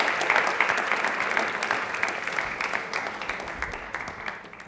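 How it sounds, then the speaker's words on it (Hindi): A television quiz-show studio audience applauds a guest, a sustained wash of many clapping hands at moderate loudness, steady and even throughout. "तालियां एक बार जोरदार होनी चाहिए मालिनी मैम के लिए।"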